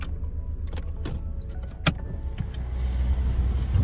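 A car pulls out of a residential housing complex, its engine and road noise steady and close, with a brief click near the middle and rising rumble toward the end.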